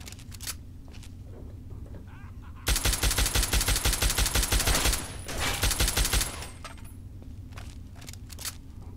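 Rapid automatic gunfire from a weapon in Fallout 3, a dense burst of about two seconds and then a shorter second burst, loud and close with no talking.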